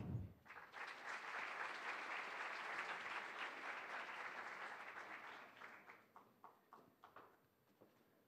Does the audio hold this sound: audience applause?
yes